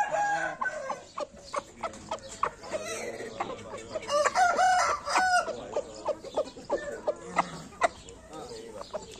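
Chickens cluck steadily around a coop of young Arab-breed birds, with a rooster's crow rising in the middle and more crowing later, close and fairly loud, while people talk in the background.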